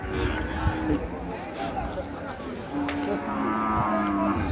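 Cattle and buffalo moo repeatedly at the large Manapparai livestock market in Tamil Nadu, several drawn-out calls over a busy outdoor murmur of traders and crowd noise, with someone talking throughout.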